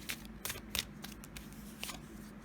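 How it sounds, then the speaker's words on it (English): Tarot cards are shuffled by hand in short, quiet bursts of papery riffling and soft slaps, heard close but faint. "Let me shuffle these up again."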